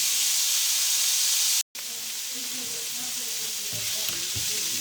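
Onions fry in oil released from chorizo, a loud, even sizzle with a brief cut near the start and soft stirring knocks toward the end; no voice.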